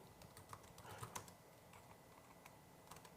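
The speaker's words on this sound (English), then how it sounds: "typing away like a madman" Computer keyboard typing comes in quick, irregular bursts of soft clicks, faint and close, with no voices alongside.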